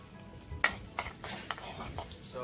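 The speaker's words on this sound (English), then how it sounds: "I'm going to add the garlic in the oil to go on." Chopped garlic frying in oil, a short burst of close sizzling with a few sharp spoon taps and stirring scrapes against the pot.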